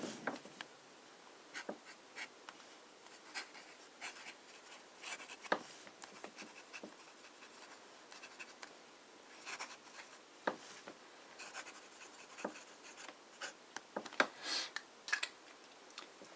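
An italic nib pen scratches across paper in short, soft strokes, quiet and close, with small pauses between strokes.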